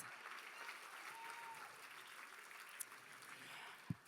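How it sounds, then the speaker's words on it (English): Faint, distant audience applause at a charity benefit gala for a woman being honored, a soft even wash of clapping with a couple of sharper taps and murmuring under it. "A bigger round of applause"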